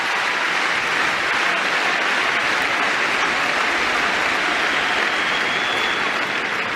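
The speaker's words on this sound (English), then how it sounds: "Crowd starting to really get into this one." Dense, sustained applause and cheering from a tennis crowd at the French Open women's final, a continuous roar of clapping filling the stadium without pause.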